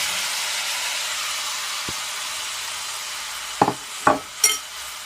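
Prawns sizzle steadily in oil with herbs in a pot, a broad continuous hiss throughout, with a few brief clanks of a utensil against the pot near the end.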